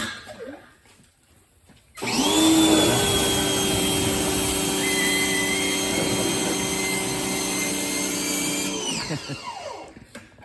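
A water spray rinses the engine bay of an Audi A5, its motor starting abruptly as a loud, steady, close drone with a constant whine, running about seven seconds before cutting off.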